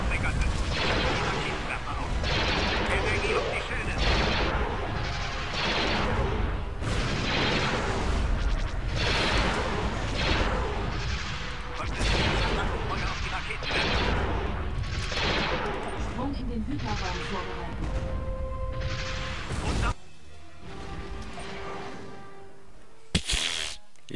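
Dense, continuous starship weapons fire in the space strategy game Star Wars: Empire at War, loud rapid blasts and impacts overlapping for about twenty seconds before thinning into scattered tonal zaps and a final sharp hit.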